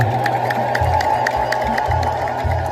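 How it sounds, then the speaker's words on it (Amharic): A church congregation at the annual feast of Saint Michael the Archangel ululates and cheers in praise, a loud, dense and continuous wall of voices with shrill trilling rising over the crowd. "ሁላችሁም እግዚአብሔርን እልል ብላችሁ አመስግኑ።"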